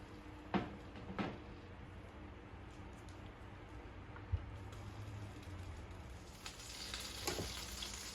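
Olive oil and butter sizzling in a pan, a faint steady frying hiss with a few clinks of utensils near the start and a brighter crackle building toward the end.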